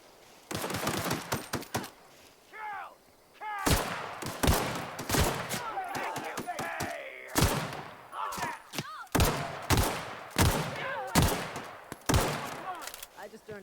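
Gunfire in The Outer Worlds video game: sharp, loud bursts of shots in irregular clusters, some rapid, with game effects and brief voice lines in between.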